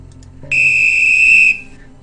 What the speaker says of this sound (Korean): 마치 호루라기를 부는 것 같은 날카로운 소리에 또 깜짝 놀란 저는